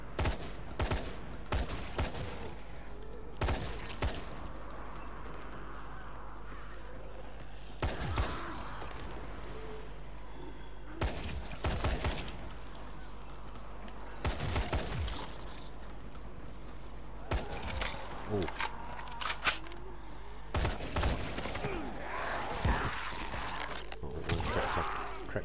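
Desert military rifle fire in the video game Dying Light: repeated bursts of loud gunshots in clusters, separated by short gaps of steady ambient game noise.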